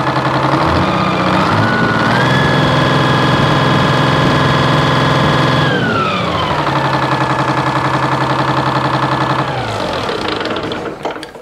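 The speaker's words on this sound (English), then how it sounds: "Sounds really good, nice and smooth idle now. It's not starving for fuel." A sawmill engine, just fixed after a fuel-starvation problem, runs loud and steady on its own, its drone briefly climbing in pitch and then sliding back down before settling into a smooth even hum.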